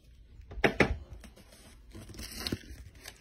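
Paper being cut with scissors, two sharp crisp snips close together near the start followed by quieter rustling and another short snip, close and fairly loud with no talking.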